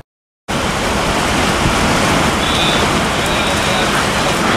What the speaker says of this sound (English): Perhaps you can hear, it's raining.